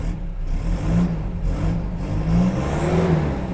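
A pickup truck engine runs with a steady rumble, rising and easing in a few revs, heard up close with continuous mechanical whir.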